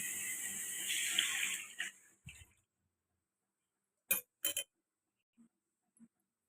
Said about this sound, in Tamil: அதனால் கொஞ்சம் எக்ஸ்ட்ராவே தண்ணி ஊற்றிக்கலாம்.